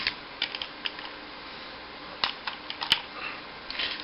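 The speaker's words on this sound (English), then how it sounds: "They plug into the cycle as so." Small plastic attachments clicked into a toy Kamen Rider cycle, a few sharp, close plastic clicks and snaps scattered over a quiet background, with one crisp click standing out.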